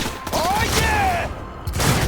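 Gunfire in Cyberpunk 2077 blends with game music and effects, a steady loud burst of shooting with tonal sweeps over it and brief speech-like sounds.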